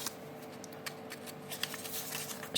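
Small cut pieces of paper card being stacked and shuffled by hand at close range, giving soft, quiet papery flicks and rustles in a quick, irregular patter with no talking.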